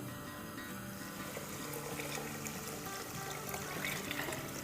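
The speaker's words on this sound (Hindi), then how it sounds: "तो ये हमने पानी डाल दिया है 5 कप।" Water poured into a pot of soaked rice on the stove while making rabri kheer, a steady broadband trickle and splash running continuously through the clip with no talk.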